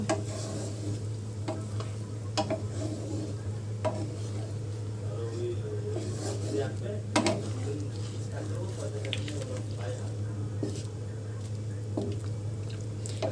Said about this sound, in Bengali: এবার মাংসগুলো দিয়ে খানিকক্ষণ ফুটিয়ে নেব।